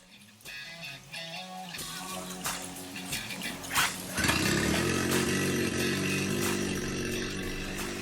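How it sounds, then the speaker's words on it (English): A Mercury 9.9hp outboard motor is cranked amid some clattering and then catches, settling into a steady, droning run for the second half. "Once it cranks up, immediately check whether or not the engine is spewing out water out of the cooler port."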